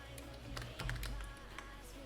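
Quick light keystrokes on a computer keyboard, a short run of soft taps under a low background hum, with no voices heard.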